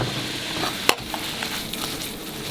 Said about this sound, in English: We're going to heat it up in butter as well.